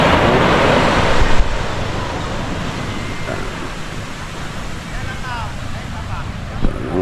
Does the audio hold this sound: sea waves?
yes